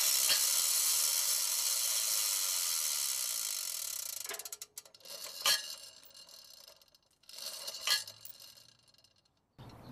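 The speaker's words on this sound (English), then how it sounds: "this is the mechanism that actually you crank and it pulls the cable and lifts up the arm" The hand-cranked winch of a Harbor Freight gantry crane gives sharp ratcheting clicks in short bursts after a loud hissing wash fades out, close and without talk.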